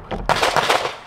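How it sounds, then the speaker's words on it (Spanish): A single sharp gunshot from a Springfield Echelon pistol cracks loudly up close and echoes briefly before fading. "Primer disparo."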